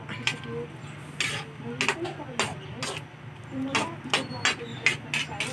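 Chicken curry mixture stirred in a pot, with a spoon clicking and scraping against the metal in an irregular rhythm, close and moderately loud, over a low steady hum and faint background voice.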